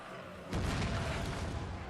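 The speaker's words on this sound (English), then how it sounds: "So our cannon units have finally started engaging the enemy as well as our mortars." Cannon and mortar fire in a Total War: Warhammer 3 battle, with a loud booming blast erupting suddenly and rumbling on as a dense, sustained roar.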